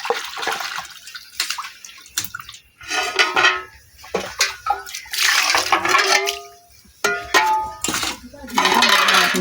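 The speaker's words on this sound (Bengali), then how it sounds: "এবার ভালো করে ধুয়ে নেব একবার ভালো করে জল দিয়ে ধোবো" Small freshwater fish, already cleaned and cut, being rinsed with water in a bowl or pot, giving irregular splashing, pouring and sloshing bursts with some clinks of the vessel, close and fairly loud.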